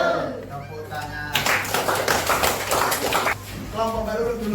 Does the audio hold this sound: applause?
yes